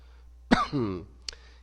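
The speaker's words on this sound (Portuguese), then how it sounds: "peço perdão a todos pela tosse" A man recovering from flu gives a single harsh cough, followed by a rough throat-clearing rasp and a short sharp catch of breath, close and alone in a quiet room.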